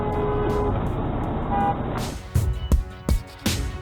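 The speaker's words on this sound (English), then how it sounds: "This blue Honda Civic, who was our first traffic cheater, gets honked at by two different drivers" Two drivers honk their car horns at a blue Honda Civic in slow traffic, short toots over road rumble, followed by a few dull thumps.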